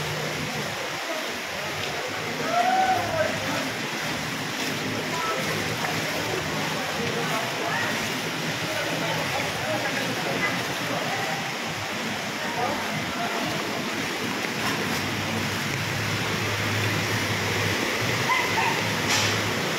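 Floodwater pours into Arangke Market along Avenida in Manila during a typhoon. A steady rushing wash of water carries on throughout, with people's voices now and then over it.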